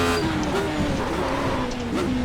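A Radical race car in the iRacing simulator at Oulton Park locks its brakes and slides, its engine tone dropping and wavering under a hiss of tire scrub and skid noise, loud and close.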